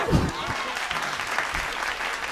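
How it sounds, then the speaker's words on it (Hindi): An audience claps at a Hindi comic poetry gathering, a dense burst of applause that carries on for a couple of seconds while a voice speaks over it. "ताली बजा।"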